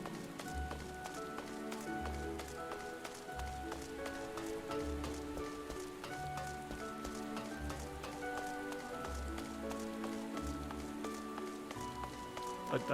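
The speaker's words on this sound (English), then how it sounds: "Only I had an umbrella for all this rain." Rain falls steadily in the video game Final Fantasy XIV, a soft constant hiss beneath melodic background music, with faint rhythmic clopping underneath.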